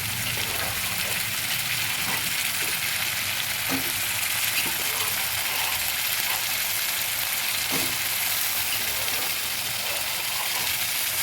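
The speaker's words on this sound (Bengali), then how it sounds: "বয়েল চানাগুলো দিয়ে দিচ্ছি" Boiled kabuli chickpeas go into a frying pan with tomato, fried potato and soya chunks, a steady close sizzle running throughout with occasional soft spoon knocks and stirring scrapes, no voices.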